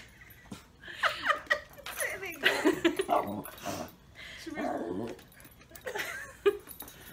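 Young puppies play indoors, letting out a series of whimpers, yips and soft whines close by in uneven bursts, with brief pauses between them.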